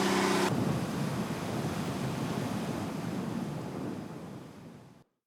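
Wind and surf at sea off an island near Wando, Korea, make a steady, loud rush of broad noise with gusting wind buffeting the microphone. It fades slightly before cutting off abruptly near the end.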